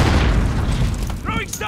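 A grenade explosion in Call of Duty: Modern Warfare, heard as a heavy, rumbling boom that spreads and slowly dies away, with a voice coming in briefly at the end.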